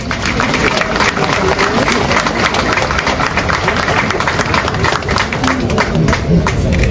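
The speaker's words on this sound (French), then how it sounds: "Sous vos applaudissements, s'il vous plaît" Audience at a police graduation ceremony breaking into loud, sustained applause, many hands clapping in a dense continuous patter that fills the hall, close and strong throughout.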